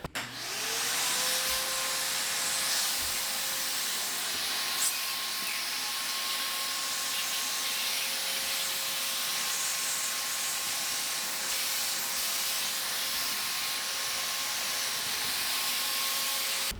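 A Heart 10 gallon shop vac with a crevice attachment pulls dust from a plywood seam, a steady loud whooshing roar with a high whine that spins up at the start and holds evenly throughout, with faint rubbing underneath.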